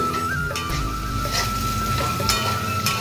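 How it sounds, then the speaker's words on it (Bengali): Salt and turmeric fry in oil in a home kitchen, a steady soft sizzle with occasional stirring scrapes and crackles, close and continuous beneath a faint electrical hum, with no talking. "লবণ হলুদ ভেজে নিচ্ছি"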